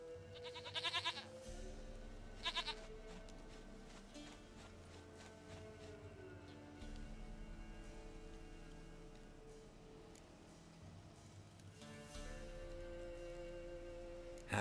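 Goat in The Witcher 3 bleating in a few short wavering bursts over a game soundscape of pattering rain and low ambient drone.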